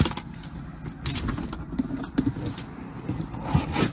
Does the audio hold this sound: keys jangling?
yes